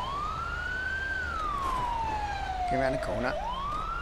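A fire engine siren in GTA V with the LSPDFR mod, a loud wailing tone that rises, slowly falls, then climbs again, with a brief horn blast and a voice speaking over it.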